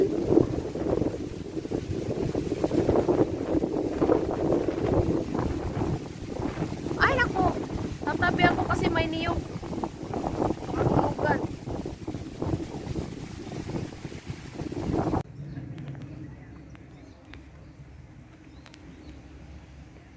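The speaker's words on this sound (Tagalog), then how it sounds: "Medyo mahangin." Wind gusts buffet the microphone at a seaside resort under renovation in Kinarut, a continuous rushing roar with a person speaking over it, easing off toward the end.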